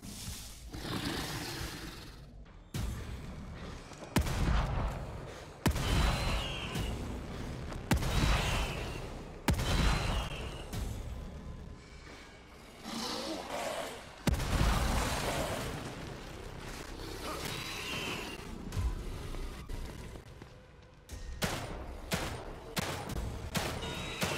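Gunfire in the video game Destiny 2: repeated loud bursts of shooting and booming blasts, separated by short gaps and rumbling tails, with no talking.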